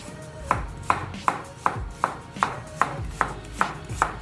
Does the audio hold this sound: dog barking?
no